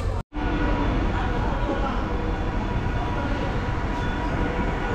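A MEMU express train rolls into a station with a loud, continuous broadband rumble and rattle of wheels on track that stays steady for several seconds after a brief cutoff at the start.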